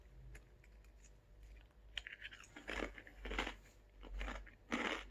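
Close crunching bites into a Japanese ranch-flavored tortilla chip, a series of crisp, crackly bursts with chewing between them and no talk.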